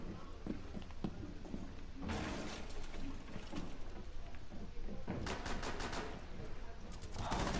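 Bursts of automatic gunfire and rapid shots from a Rainbow Six Siege match, sharp broadband cracks clustered at intervals over steady game background noise.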